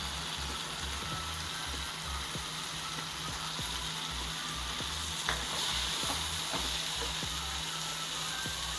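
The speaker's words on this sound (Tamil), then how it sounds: "இதெல்லாம் நல்லா வதங்கட்டும்." Ground chilli powder, coriander powder and turmeric sautéing in a pan for a fish curry, giving a steady close sizzle and frying hiss with occasional stirring scrapes and clicks throughout.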